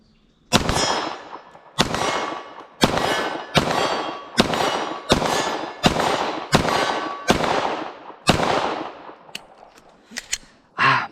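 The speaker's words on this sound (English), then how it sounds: "these are going to be the first 10 shots out of the Echelon compact version at roughly around 30 yards or so" An Echelon 4.0C compact 9mm pistol fires ten sharp shots at an outdoor range target about 30 yards away, evenly spaced roughly a second apart, each crack ringing with a metallic clang, with faint clicks after.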